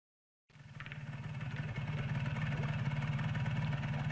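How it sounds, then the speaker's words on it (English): Tugboat engine idling in the video game Kentucky Route Zero, a steady low rumbling drone that starts abruptly after a brief silence and holds loud and even throughout, with no talk. "This is about as far as the tugboat can go."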